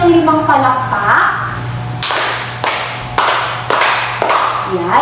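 Five sharp, loud group claps from a class of children in a grade-four music lesson, evenly spaced about half a second apart, each a crisp burst, following a voice at the start.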